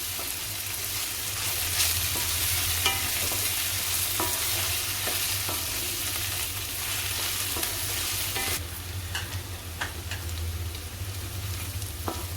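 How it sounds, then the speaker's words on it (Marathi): Ginger garlic paste sautéing in hot oil for a cauliflower and pea dish, a steady close sizzle with scattered stirring scrapes and clicks throughout, a low hum underneath. "आता आलं लसूण पेस्ट घालते पण थोडी परतते"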